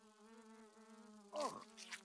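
A fly buzzes with a steady, close drone in the video game Grounded, then flares into a louder, harsher burst as it swoops near, before settling back to a fainter hum.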